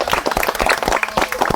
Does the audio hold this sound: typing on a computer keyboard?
no